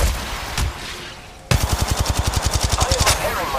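Rapid automatic gunfire in the mobile battle game Apex Legends Mobile bursts in suddenly as a long, loud, evenly paced string of shots, after a brief stretch of quieter game noise and a voice.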